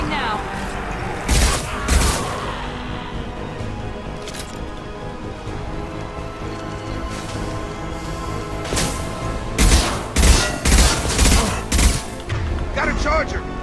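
Weapon fire in the Mass Effect video game: sharp gunshot cracks cluster early on, then a denser volley of shots and booms follows later, set against a busy bed of game noise, with some voices present.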